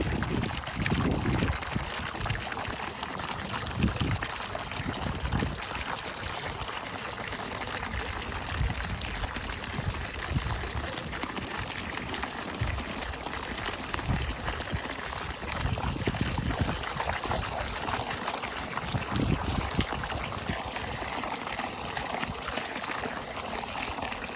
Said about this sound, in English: let the water start flowing across this root.